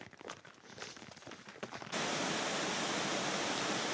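A river rushes through the bottom of a valley, a steady broadband roar that swells in abruptly midway and then holds constant, close and loud after faint footstep-like rustles at the start.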